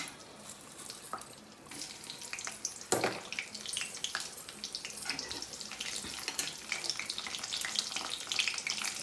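Dried red chillies and garlic fry in oil for a village-style munaga leaf fry, a steady close crackling sizzle with bursts of sputtering and an occasional stir.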